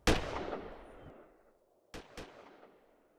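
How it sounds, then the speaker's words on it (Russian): Fireworks going off at a neighbours' party: one loud boom with a long rolling decay, then after a pause two sharp cracks close together, each trailing off into echo. "это просто салют"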